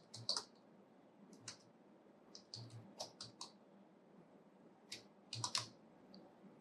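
Keys tapped on a computer keyboard while entering seller details such as name, shop page and email into a marketplace form, sparse clusters of quiet close clicks separated by pauses, alone in a quiet room.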